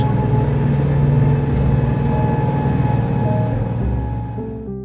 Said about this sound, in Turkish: Motor yatlar böyle ses çıkarır.